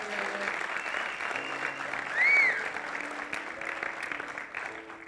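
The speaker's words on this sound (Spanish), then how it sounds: "¿cuántos le dan un aplauso al Señor?" A church congregation applauds, a steady wash of clapping with a brief swell in the middle, moderately loud and sustained, with voices faintly underneath.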